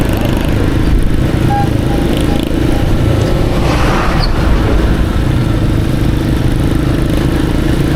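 A newly acquired motorcycle's engine runs close by, a loud steady low rumble that holds constant without revving, alone with no talk.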